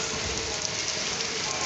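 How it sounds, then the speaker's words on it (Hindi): Rain splashes steadily on a metal shutter during a sudden downpour in Faisalabad, a dense continuous patter close to the listener with no pauses. "वो देख रहे हैं शटर के ऊपर कितनी प्यारी लग रही है बारिश के छींटे"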